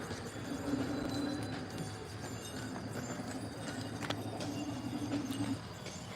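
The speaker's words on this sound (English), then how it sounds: "Horse and buggy in front of us." Faint hooves of a horse and buggy clip-clop at a steady pace ahead at Disney's Fort Wilderness Campground, mixed with a low vehicle hum and distant background noise.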